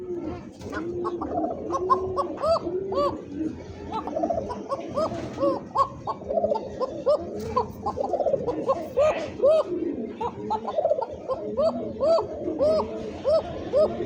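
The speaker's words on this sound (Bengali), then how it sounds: "ডাক তো শুনলেনি, কবুতর দুইটা দেখেন পক্কা ভাই" Two pigeons kept in a market setting coo over and over, overlapping throaty rolling calls that pulse rhythmically for about fourteen seconds, close and fairly loud, with some murmured talk underneath.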